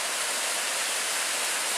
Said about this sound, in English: This is always one of my favorite areas with these tiers of waterfalls.